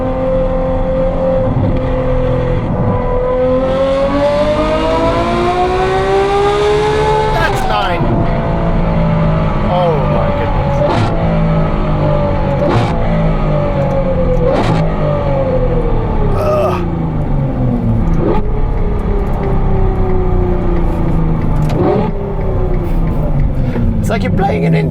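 A Ferrari 812 N-Largo with a Novitec exhaust revs hard, its V12 howl rising and falling in repeated sweeps with crackling pops between them, loud and close, with occasional voices mixed in.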